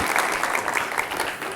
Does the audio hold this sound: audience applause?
yes